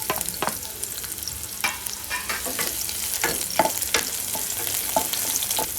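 Onions frying in hot oil in a kadhai make a continuous close sizzle broken by frequent sharp crackles and pops, loud and steady with no talking.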